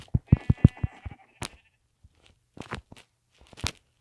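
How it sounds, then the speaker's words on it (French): Sheep in Minecraft bleat in a rapid run of short calls, followed by a few scattered footstep-like crunches and more bleats, fairly close and clear with no talking. "Un petit mouton noir"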